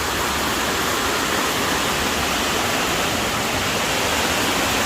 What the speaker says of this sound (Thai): น้ำตก ไซโยกน้อยครับ